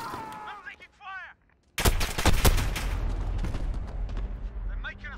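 Call of Duty: Modern Warfare firefight: a burst of loud, sharp gunshots in rapid succession breaks out after short radio-style voice lines, then heavy sustained gunfire and rumble continue under further voices.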